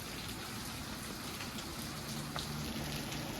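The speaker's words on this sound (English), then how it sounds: "it continues to pour down rain out here in Pullman" Heavy rain pours down outdoors in Pullman, Washington, a dense, steady hiss of drops striking surfaces that stays even and close for the whole stretch, with no voices.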